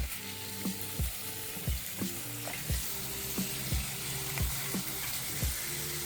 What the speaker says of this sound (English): Now we're going to add our thinly sliced ribeyes.